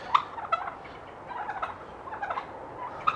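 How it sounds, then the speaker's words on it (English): A flock of turkeys on a December walk near Porthcawl gobbles repeatedly, with rapid rattling calls rising and falling in clusters, moderately close, over quiet outdoor ambience and no voices. "Listen to those turkeys."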